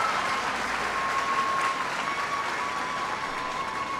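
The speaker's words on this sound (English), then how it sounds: "I want everybody to give him a big round of applause." A town hall crowd in Costa Mesa, California breaks into sustained, loud applause, steady and even throughout with a faint tone running beneath.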